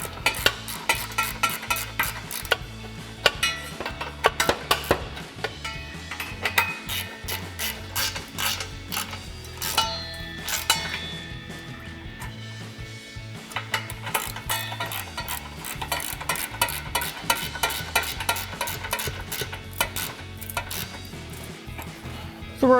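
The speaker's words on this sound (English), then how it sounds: "Grab our ratchet 16mm socket and tighten that down." Ratchet with a 16mm socket tightening factory 16mm exhaust flange bolts on a RAM 1500 dual exhaust install: rapid, close metallic clicking in repeated bursts with short pauses, crisp and continuous over several runs.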